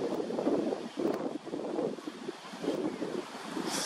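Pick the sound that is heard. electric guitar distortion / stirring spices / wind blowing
wind blowing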